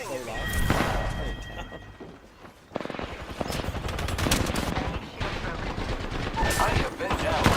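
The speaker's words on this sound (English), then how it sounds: "The enemies are shooting at me." Video game gunfire from enemies during a live stream, dense rapid automatic bursts and single shots crackling almost continuously, loud and close, with a voice speaking over parts of it.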